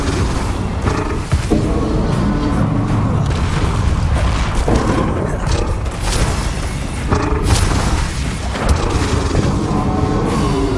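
Spell explosions in Hogwarts Legacy played in VR with the UEVR mod during San Bakar's Trial: loud, relentless booms and blasts pile up into one continuous roar across the whole stretch.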